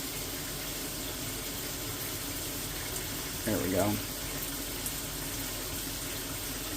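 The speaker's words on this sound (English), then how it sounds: "touch the little streams of water coming out of the sprayer" A steady hiss of hot water spraying from an RV shower head fed by a tankless water heater runs throughout, with a voice speaking briefly in the middle.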